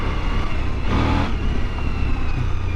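A Suzuki V-Strom 1000 motorcycle engine accelerates with a loud, steady roar and a brief swell of revving near the middle, heard close and alone.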